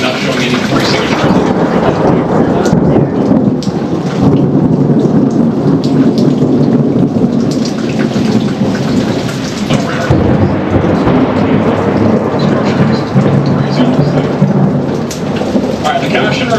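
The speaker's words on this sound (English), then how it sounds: "Isn't that some crazy thunder?" Thunder rolls through a heavy downpour, the rain a constant loud hiss and patter while low rumbles build and fade again and again, with a sharper crack partway through.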